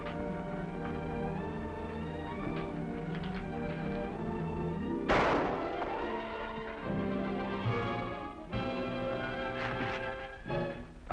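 A single sharp gunshot cracks out in a 1951 western TV episode about vigilantes, loud and sudden midway through, over an orchestral music score that plays throughout.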